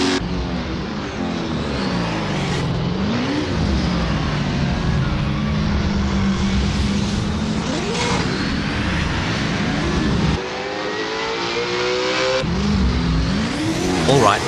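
Ford Falcon FGX V8 Supercar racing at Simmons Plains in Assetto Corsa, its engine howling loud and close with rising and falling revs through gear changes and a brief dip off throttle before pulling hard again.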